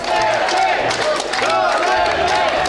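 A loud crowd at a political rally shouts and cheers in rising and falling waves, with clapping mixed into the continuous roar.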